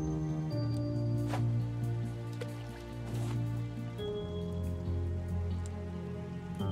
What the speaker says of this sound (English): Oh, grand, it's raining.